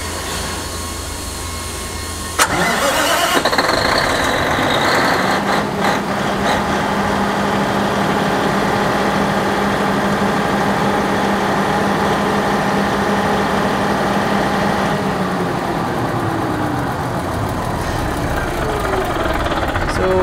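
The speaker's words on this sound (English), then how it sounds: "we are going to start up the engine" A generator engine fitted with a DEEPSEA 8610 control module starts up after a brief quiet, then settles into a steady, loud idle with a constant low drone and mechanical hum, no talk over it.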